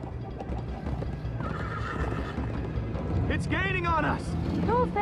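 Horses whinny and hooves clip-clop at a gallop over a busy soundtrack in Minecraft Story Mode, with voices talking throughout.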